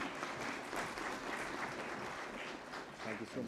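Sustained applause fills a hall at a national technical textiles conference, a dense, even clapping crowd heard from some distance, with faint voices mixed beneath it.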